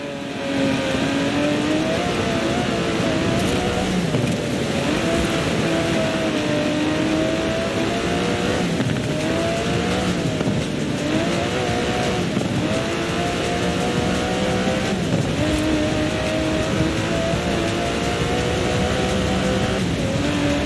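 An Aston Martin DB11's 5.2-litre twin-turbo V12 in the video game Forza Horizon 4 revs and drones continuously, its pitch rising and falling as it accelerates through gears, loud and close.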